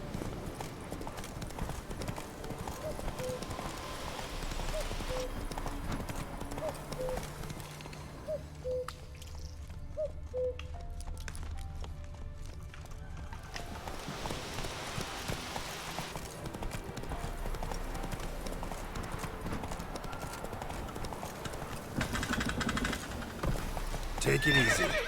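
Hooves of Roach, a horse in The Witcher 3, clip-clop steadily at a trot with several neighs and whinnies mixed in, set against a continuous game backdrop of ambience and music.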